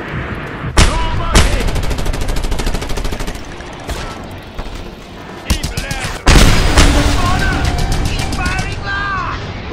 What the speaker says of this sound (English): I meant to draw the light machine gun